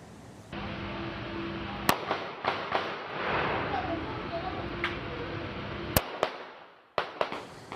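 Rapid cracking shots ring out in irregular bursts over a noisy background, loud sharp reports scattered across several seconds with brief pauses.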